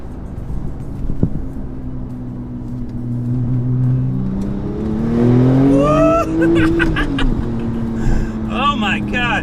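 An 800+ horsepower Porsche 911 Turbo accelerates hard from inside the cabin, its engine note rising and climbing through the revs with turbo whistle, while an occupant talks excitedly over it.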